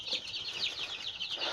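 Chicks being fed chopped boiled egg make soft, repeated high chirps and peeps close by, a quick string of short calls over a quiet background.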